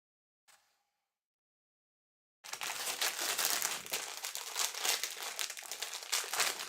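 A plastic bag of Lego parts crinkles loudly and continuously up close, after a faint brief rustle and a couple of seconds of silence.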